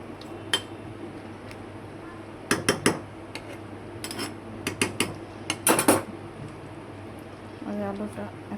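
A lid being set onto a pot of simmering potato curry: a cluster of sharp metallic clanks and rattles as it is placed and settled, with quieter clinks before and after and a voice speaking near the end.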